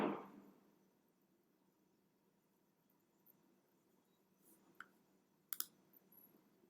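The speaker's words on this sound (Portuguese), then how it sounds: "Vou clicar aqui em atualizar." Close, quiet mouse clicks on a refresh button while editing a web page in Elementor: two or three sharp taps near the end, against faint room noise.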